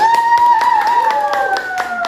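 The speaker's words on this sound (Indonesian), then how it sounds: "Ya, tepuk tangan." A fourth-grade class claps hands in a quick, steady rhythm of sharp beats, with a sustained voiced tone running along underneath.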